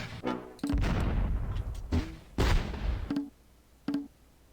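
Gunfire from soldiers in the war strategy game Close Combat: several sharp rifle shots and bursts crack out, some with lingering echo, separated by brief quiet gaps, then two isolated single shots.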